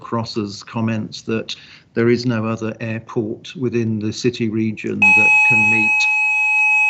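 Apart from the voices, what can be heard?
fire alarm test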